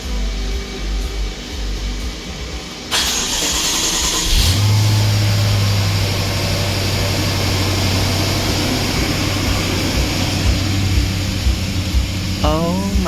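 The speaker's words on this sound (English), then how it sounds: "so now I think I just start the car" A BMW X5 engine cranks and catches after an injector replacement, then settles into a steady low idle with a brief rev, close and loud, with faint voices under it.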